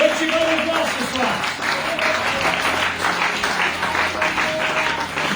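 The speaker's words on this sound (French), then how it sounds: "tes acclamations étaient plus hautes" Church audience at a Vous Recevrez Une Puissance gathering applauding and cheering in a steady, dense wash of clapping and voices that holds loud throughout, with a few raised shouts rising over the crowd noise.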